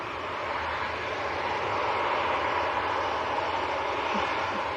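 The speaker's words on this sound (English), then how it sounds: "this is Ryanair to Madrid" Maltese-registered ten-year-old Ryanair Boeing 737-800 jet airliner bound for Madrid at Manchester Airport in crosswinds, a steady broadband engine roar holding evenly loud throughout with no voices.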